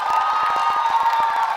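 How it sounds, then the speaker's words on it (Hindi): An audience at a Dev Anand quiz event in Jaipur claps and cheers, with rapid loud clapping and lively shouts over a sustained tone in the background. "तालियां जोरों से बजाइए आपके लिए"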